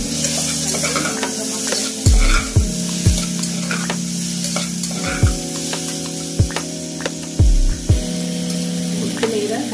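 Tomatoes and salt sizzle in a frying pan while a utensil scrapes and stirs them in repeated bursts, and a steady hiss of frying runs beneath the clatter.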